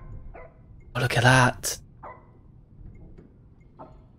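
A dog in a horror video game gives one loud, close bark with a short yelp after it, and a few fainter barks follow. Someone speaks briefly near the start.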